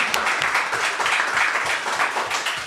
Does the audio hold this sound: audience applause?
yes